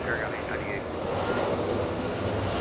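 A Boeing 737 on final approach for landing on runway 24 right at LAX roars as a steady loud engine drone, with radio-style voices talking over it.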